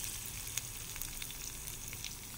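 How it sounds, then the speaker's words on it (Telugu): Frying in a pan for a fenugreek leaf chicken curry, a dense close sizzle with crackling pops spread evenly throughout, steady and fairly loud, with no voices. "చూడండి వేగుతున్నాయి. మెల్లమెల్లగా గోల్డెన్ బ్రౌన్ కలర్."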